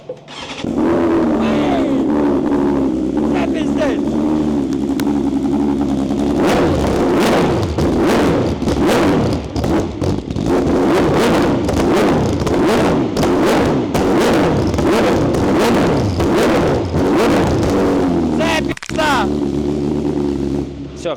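Up close, a motorcycle engine idles, then revs hard in rapid repeated blips, with sharp popping backfires crackling between revs before settling back to idle.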